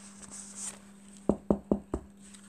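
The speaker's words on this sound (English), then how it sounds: "He knocked on the door" Four sharp knocks on a door at the brother's house in a Three Little Pigs story. They are evenly spaced, close and loud over a quiet background with a steady low hum.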